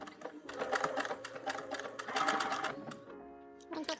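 A sewing machine runs an overcast stitch along a fabric edge in quick, rapid bursts of clattering needle strokes, then slows and stops near the end before a short restart.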